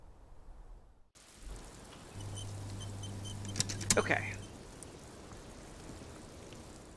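Steady rain in the video game Disco Elysium, a soft continuous wash of patter with a low hum entering midway, while a voice speaks briefly over it.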